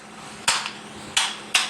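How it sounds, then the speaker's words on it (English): Three sharp metallic hammer taps evening out a block, with an iPhone 7 and cola nearby, ringing out at uneven intervals over a steady low hum, close and fairly loud, with no talking. "I'm going to go ahead and just even it out here with this hammer"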